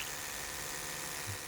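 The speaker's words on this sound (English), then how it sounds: "So here's the regular Oral-B." A regular Oral-B electric toothbrush runs with a steady, continuous motor buzz held close to a microphone, loud and unbroken, with no voices.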